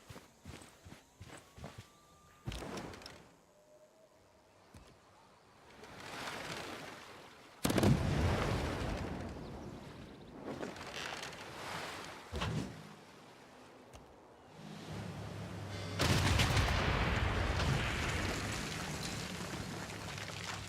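Battleship attack in Civilization VI, several heavy booming cannon blasts with rumbling impacts spaced across the stretch, separated by quieter gaps of light clicks, no talk.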